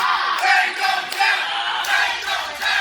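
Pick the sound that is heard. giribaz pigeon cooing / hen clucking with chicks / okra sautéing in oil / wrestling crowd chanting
wrestling crowd chanting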